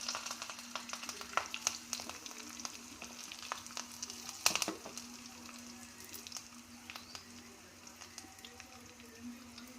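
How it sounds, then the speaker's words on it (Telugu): A tempering of small onions, cumin, mustard seeds and curry leaves in hot oil for a lentil rasam crackles and sizzles in sharp, scattered pops over a low steady hiss, fairly quiet, with one louder burst midway. "కరివేపాకు కూడా వేసి బాగా కాగినాయి పప్పుచారు. తిరగమాత కాగింది"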